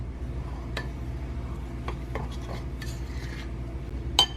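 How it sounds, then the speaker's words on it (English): A graham cracker crust mixture with sugar and melted butter is stirred in a bowl, producing soft scraping and occasional light clinks of a utensil against the dish, fairly quiet and close. "we're just going to go ahead and mix up our crust"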